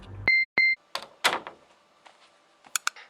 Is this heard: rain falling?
no